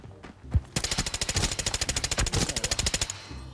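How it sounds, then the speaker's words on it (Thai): Rapid automatic gunfire in the Arena Breakout shooter game, a dense burst of about twenty-five sharp evenly spaced shots after a lone opening crack, loud and close with no talking. "เอาลูกซองยิงผมว่ะ"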